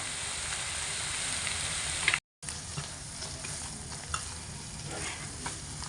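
Taro leaves cook with a hilsa fish head, making a continuous soft sizzle and bubbling with gentle stirring. There is one brief dropout midway, and then the steady frying resumes.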